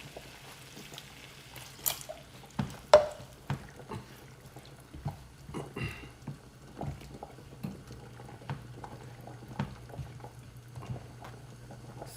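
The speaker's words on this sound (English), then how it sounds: "I'm gonna just let them saute just like that." Vegetables sauté in an uncovered pan after a splash of water, with soft bubbling, pops and scattered sharp crackles that come close and fairly faint, with no talk.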